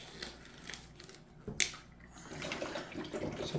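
Tap water running into several water bottles at a countertop, a steady splashing stream with a brief louder gush midway, close and moderately quiet.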